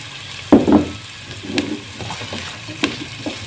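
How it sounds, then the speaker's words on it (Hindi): Cubed carrot frying in a pan for white pasta, a soft continuous sizzle broken by a few louder stirring scrapes and knocks. "गाजर को हमने 3 मिनट के लिए इसमें फ्राई करना है।"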